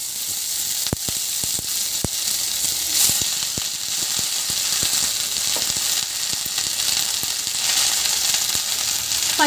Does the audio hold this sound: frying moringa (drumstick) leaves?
yes